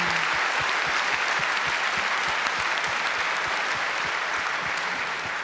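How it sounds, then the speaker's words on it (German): Conference hall audience applauding after a talk at the 29C3 hacker congress, steady thick clapping with some distinct nearby claps, loud and unbroken throughout, without speech. "Ich bitte noch einmal um Applaus"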